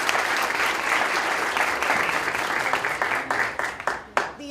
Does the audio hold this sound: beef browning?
no